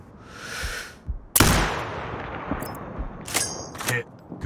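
A single sharp sniper rifle shot from Sniper Ghost Warrior Contracts 2, a loud crack followed by a long decaying echo, with a few fainter clicks and thuds afterward and a brief muffled sound before the shot.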